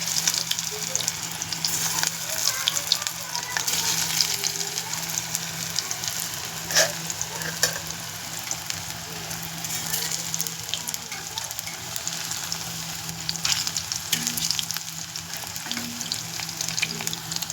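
Beetroot pakoras frying in hot oil, a continuous loud crackling sizzle with bursts of sharper pops, steady throughout and heard close.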